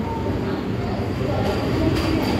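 Steady rumble and rattle fill the inside of a crowded Intercity superfast express train in motion, with a constant close wash of carriage noise and faint crowd murmur.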